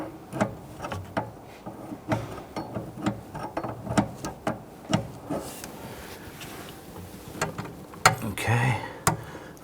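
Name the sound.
loosening brake line fittings on a Kia Sorento master cylinder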